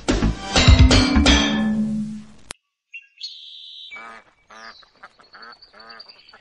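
Loud, close duck quacks in a rapid cluster, then a pause followed by quieter, higher-pitched calls and chattering from fowl further off.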